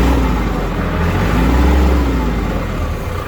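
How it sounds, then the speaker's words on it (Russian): A Kubota GL19 mini tractor's small diesel engine runs steadily after a cold start, a close, even, low rumble with no talking over it. "Трактор холодный, запустился вообще без проблем"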